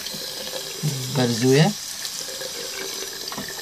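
Tap water runs into a sink while an aquarium filter's charcoal bag is washed, giving a steady splashing wash throughout, with a voice speaking briefly in the middle over it.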